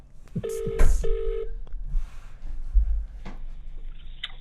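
Telephone call being placed: a short burst of electronic dialing tones, then a warbling ring tone, with clunks of handling and a faint voice in the background.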